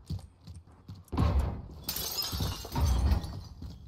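Glass breaking in the Warzone video game: a sharp shattering crash, then a bright spray of falling shards and a second crunching impact, fairly close and loud.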